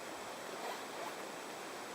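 Water pours off a sagging camping tarp holding roughly ten liters, a soft, steady trickling rush heard quietly and continuously, with no talking.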